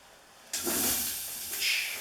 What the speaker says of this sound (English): just add in that pear